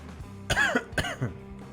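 Two harsh, close coughs burst out about half a second apart, with a smaller throaty follow-up, against a quiet room background.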